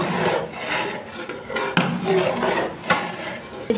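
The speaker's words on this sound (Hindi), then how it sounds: "देखें मेरा देवर कैसे चम्मच चला रहा है देग के अंदर दबा दबा।" A spoon scrapes and knocks inside a large degh of chana haleem, pressing down into the thick mixture with irregular scraping strokes and sharp metallic clinks close by.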